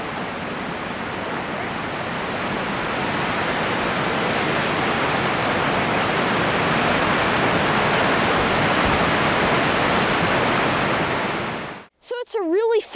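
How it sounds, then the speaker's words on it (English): Chaudière Falls in Ottawa, on a foggy spring day, gives off a dense, constant roar of rushing water that holds steady and loud before cutting off abruptly near the end. "I didn't even know Ottawa had a waterfall like this until just recently."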